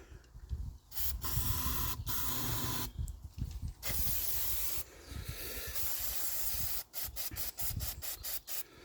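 Aerosol carb cleaner sprayed into the cylinder of a seized Enfield diesel engine, with repeated loud close bursts of hissing spray separated by brief pauses, ending in a run of short rapid squirts.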